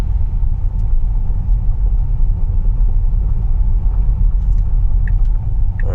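A Tesla drives up a slick winter road covered with gravel, heard from inside as a loud, steady low rumble of tires and road noise with no talking.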